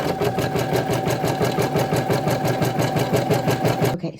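An embroidery machine runs a tack-down placement stitch through fabric in a hoop, a loud close rapid mechanical chatter with an even rhythm that stops abruptly at the end.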